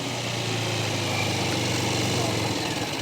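A motorcycle engine is revved up by a learner riding a straight line, a steady loud drone with a low hum that holds at an even pitch for the whole stretch, no pauses.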